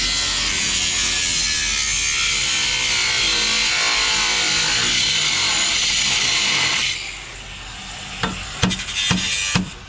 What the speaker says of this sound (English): I'm trying to think on how I want to cut this so the sparks don't go that way.